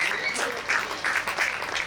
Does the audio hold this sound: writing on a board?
no